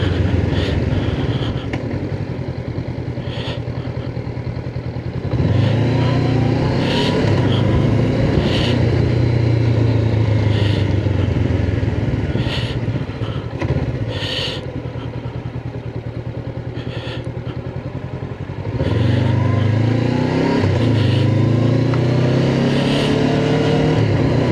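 A Honda NX500 motorcycle rides downhill through a road-work section, its engine note loud and close, with the revs rising and falling as the rider shifts through the gears, without any talk.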